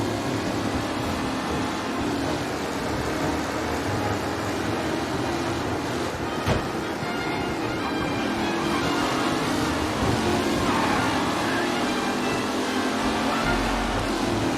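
A race car in Mafia Definitive Edition, driven hard during a race, gives a loud, steady engine roar and road rush that runs unbroken from start to finish with no talk.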